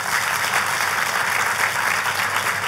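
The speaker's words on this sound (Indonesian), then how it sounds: "boleh gak sih kasih tepuk tangan untuk gembala sidang saudara?" Church congregation applauding their pastor, a dense, steady wash of clapping that stays loud and even throughout.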